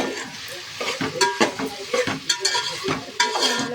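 A spoon or spatula scrapes and stirs food frying in a pan, salted while cooking, with steady sizzling and repeated clinks and scrapes close by.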